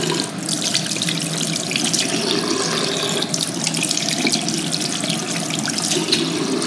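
Warm water runs steadily from a tap into a sink in the washroom of The Steam Packet pub in Chiswick, London, a continuous close hiss and splash with no talk.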